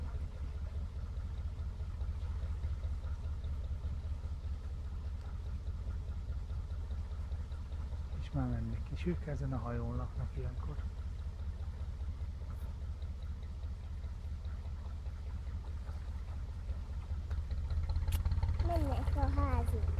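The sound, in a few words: narrowboat engine throttling up as it departs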